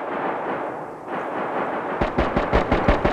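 Distant gunfire from players in the survival game DayZ, a quick series of about eight sharp shots after a stretch of low ambient wind, moderately loud with no voices.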